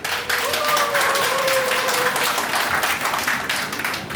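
Audience applause fills a residents' meeting on a power-line special support project in Wongok-myeon, a dense steady clatter of many hands lasting the whole stretch, with a faint tone and murmur underneath.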